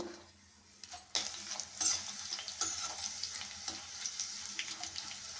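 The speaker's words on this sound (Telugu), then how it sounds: "కాకరకాయ ముక్కలను అయితే వేసుకొని ఫ్లేమ్ పెట్టేసుకొని దూరగా వేయించుకోవాలండి" Bitter gourd pieces sizzle in hot oil, a steady frying hiss with occasional sharper crackles and stirring scrapes, close and moderately quiet throughout.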